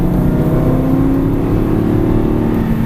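An Aston Martin V8 Vantage engine pulls hard on a racing circuit, a loud, steady drone that builds continuously through the whole stretch with no pause, close and dominant.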